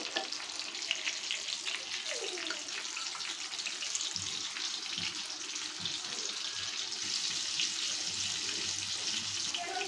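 Pointed gourd and chicken mince fritters frying in hot oil, a steady dense sizzle with faint scraping and clinks running throughout, no talking.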